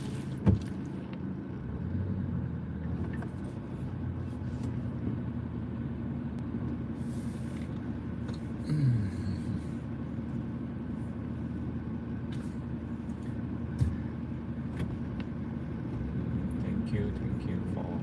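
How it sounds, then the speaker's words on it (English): A road full of cars during a busy commute gives a continuous low traffic rumble, with vehicles swelling past now and then and an occasional sharp clack. Faint talk sits underneath. "I know the road is full with car"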